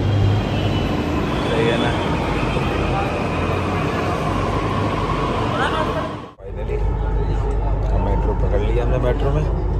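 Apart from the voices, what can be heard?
metro train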